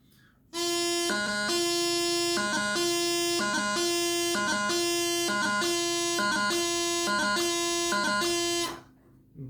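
A bagpipe chanter plays a steady drone-rich melody with repeated quick grip embellishments from low G back to E, crisp triple-note flourishes recurring every second or so, loud and alone.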